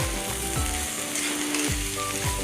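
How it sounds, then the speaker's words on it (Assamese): Raw banana pieces fry in a pan over a medium flame, a steady close sizzle with a few stirring scrapes and clinks breaking through. "ইমান দেৰি মই মিডিয়াম ফ্লেমতে ভাজি আছিলোঁ"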